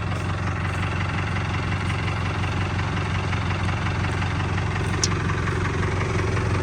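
An Isuzu 4BE1 diesel truck engine runs at a steady idle, a continuous close low rumble with an even throb and a faint ticking knock, with no voices.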